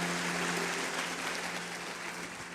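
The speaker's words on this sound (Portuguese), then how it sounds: "Se você crê na sua oração, aplauda bem forte o nome de Jesus." A church congregation applauds in a brief, steady burst of massed clapping, moderately distant and somewhat faint.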